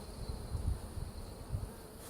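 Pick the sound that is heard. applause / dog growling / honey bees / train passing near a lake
honey bees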